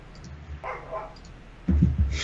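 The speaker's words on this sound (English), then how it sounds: "I hear dogs in the background" Dogs bark in the background, picked up in a home setting as a few short, moderately faint bursts with a louder cluster near the end, and nobody speaks over them.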